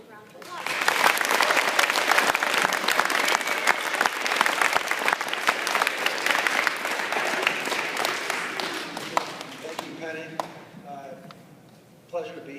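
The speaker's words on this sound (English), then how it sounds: "let's give him a big round of applause" An audience gives a big round of applause to welcome a guest speaker, a sustained dense clapping that swells quickly, holds loud for about ten seconds and then tapers off, with a few voices near the end.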